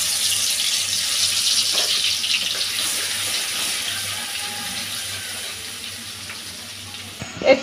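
Lightly crushed garlic dropped into hot oil for a fish curry, a steady dense hissing sizzle that slowly softens, ending with a couple of clinks from the pan.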